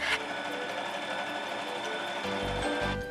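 A sewing machine zigzag-stitching the sides of a fabric grocery tote bag runs in a steady, close mechanical whir throughout, with a heavier low thumping toward the end.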